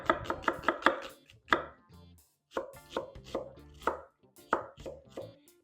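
Onion being chopped on a cutting board for Jamaican callaloo, a quick run of sharp knife strikes followed by a few slower separate chops, close and clear with no talking.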